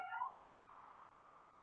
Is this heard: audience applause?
no